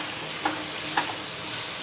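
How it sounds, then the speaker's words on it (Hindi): Chicken rara kebab mixture sizzles steadily in a hot pan while a spoon stirs through it, two soft scraping knocks rising above the constant close frying hiss. "अब इसे अच्छा मिक्स कर लेंगे।"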